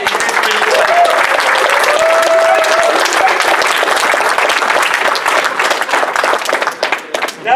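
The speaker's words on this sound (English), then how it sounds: "let's give a huge round of applause to Pandez, one of my best friends" A large convention crowd at a live show gives loud, sustained applause for a guest performer. Cheers and voices mix into the heavy, continuous clapping, which eases near the end.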